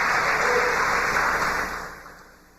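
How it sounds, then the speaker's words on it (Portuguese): A church congregation breaks into strong, dense applause that holds loud and steady for a moment and then fades away toward the end. "Dê um aplauso bem forte ao Senhor"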